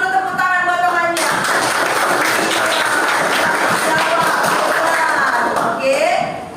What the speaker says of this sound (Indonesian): kasih dulu tepuk tangan buat temannya